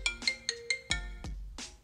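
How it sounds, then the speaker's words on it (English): An iPhone ringtone plays after a water damage repair: a short run of bright, plucked electronic notes from the phone's small speaker, heard alone and fairly quiet. "Now let's see how the ringtone, if it works good or not."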